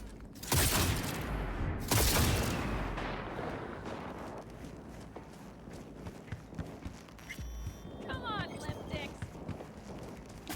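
Gunfire in the video game Cyberpunk 2077: two loud bursts near the start, then scattered shots and impacts under a busy game mix, with someone talking over much of it.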